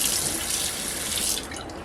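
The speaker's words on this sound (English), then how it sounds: "I'm going to use 3 lemons, and I'm just gonna rinse those and give those a little wash" Warm tap water runs steadily as three lemons are rinsed under it, giving a close, even splashing hiss that tapers slightly near the end.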